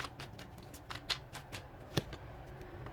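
Tarot cards being shuffled by hand, a run of soft riffling and papery flicks with a couple of sharper snaps, close and fairly quiet, no talking.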